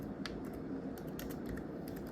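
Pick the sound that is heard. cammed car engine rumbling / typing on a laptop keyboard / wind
typing on a laptop keyboard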